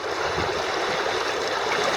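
The Rogue River flows on a late-summer day, a steady broadband rush of moving water heard up close with no voices.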